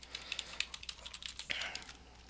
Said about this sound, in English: just typing in password for password.